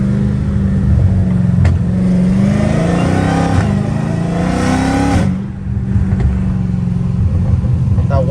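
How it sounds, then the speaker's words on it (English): A catless Dodge Hellcat Redeye engine runs loud and close at a steady idle while warming up. Its revs climb and fall in a brief swell before settling back to a deep rumble. "I do want to warm up the car some more before I do some pulls."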